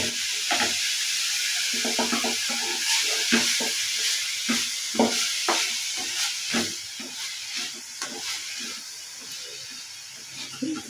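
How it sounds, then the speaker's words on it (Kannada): Beetroot for halwa frying in a pan while being stirred, a steady hiss and sizzle broken by repeated scraping clicks of the spoon against the pan, close and continuous with no talk. "ಈಗ ಸ್ವಲ್ಪ ಚೆನ್ನಾಗಿ ಫ್ರೈ ಆಗಬೇಕು."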